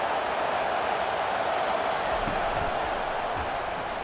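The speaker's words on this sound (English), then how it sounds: "This crowd bringing the energy and noise early." Dense, steady stadium crowd roar in the College Football 25 video game, Oregon vs Michigan, fills the whole stretch, a constant loud wash of many voices with no pauses, sounding large and enveloping.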